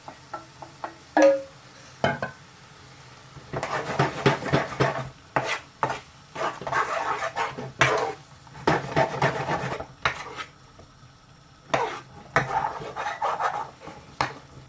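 A spoon scrapes the bottom of a pan while garlic chilli chicken curry cooks, making repeated rasping strokes in short bursts with brief pauses. No one talks.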